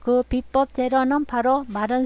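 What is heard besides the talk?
No everyday noise stands out behind the speech.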